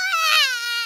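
A cartoon baby cries in a Peppa Pig episode, a single drawn-out, high, tonal wail that wavers in pitch, loud and clear with no other sound.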